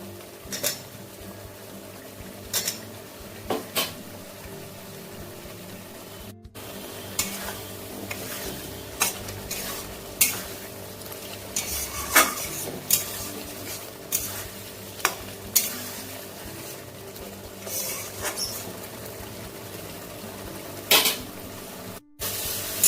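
Spices and fried potatoes for a pabda fish curry sizzle steadily in a pan, with repeated scraping and clinking of a spoon stirring the mix.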